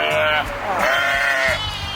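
A Katahdin sheep on a farm gives two drawn-out, wavering bleats close by, the second longer, over faint background noise.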